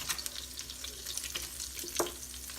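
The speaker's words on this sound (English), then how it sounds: "I gotta run some cold water" Kitchen tap running cold water into a sink while cooking meatball stroganoff, a steady close hiss with faint clinks and splashes.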